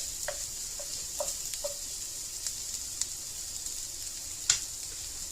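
Onions sizzling in a pan for a shrimp stir fry give a faint, even hiss, with a few light utensil taps and scrapes early on and one sharper clack near the end.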